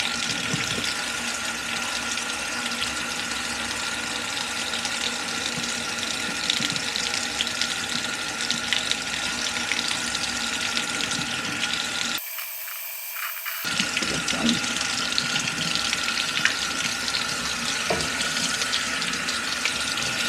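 Hot water runs from a household tap for watering lithops in an Ohio home, a steady close hiss and splash that cuts out briefly midway and then resumes.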